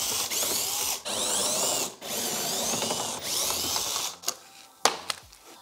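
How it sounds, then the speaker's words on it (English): A power driver removes the 8 mm screws holding the front bumper of a BMW X5, worked from under the open hood: steady whirring bursts broken by short pauses, then the tool stops and a few sharp clicks and handling noises follow. "From here, I need to remove these screws, 5 screws."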